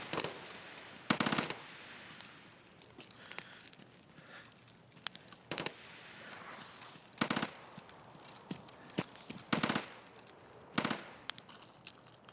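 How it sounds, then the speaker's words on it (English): Ash 12 rifle gunfire in a video game: sharp bursts of shots at about 1, 5.5, 7, 9.5 and 11 seconds stand out over a steady background of game noise and rumble. "God, I love shooting people with the Ash 12"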